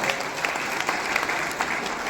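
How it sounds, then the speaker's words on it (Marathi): Dense, even applause rises from an audience at a community hall funding announcement event, a steady wash of many hands clapping without a break. "त्यांच्यासाठी आपण जोरदार टाळ्या वाजून"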